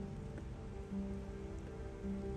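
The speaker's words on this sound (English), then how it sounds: "the weather decided to catch up and really pour down." Heavy monsoon-season rain pours down steadily outdoors, a constant wash of drops on surfaces with no voices, moderately quiet and even throughout.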